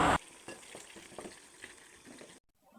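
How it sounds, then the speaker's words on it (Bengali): Chicken pieces are stirred through a spice mix in a pan for a chicken roast, with a faint, soft sizzle and light rhythmic scraping strokes that stop abruptly into silence. "তো সবগুলো মাংস দেওয়ার পর আমি ভালো করে নেড়ে চেড়ে দিচ্ছি যেন মাংসগুলোর গায়ে মশলাটা"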